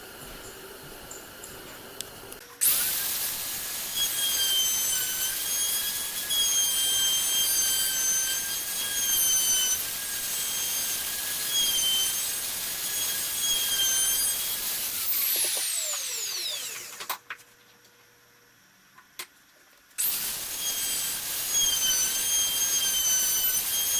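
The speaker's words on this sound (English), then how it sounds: "I'm going to run it through the router on top just to take off some of these sharp corners" A hand router spins up with a high whine and cuts along the sharp corners of a small wooden part, a steady loud buzz interrupted by a few seconds of silence before the motor starts again.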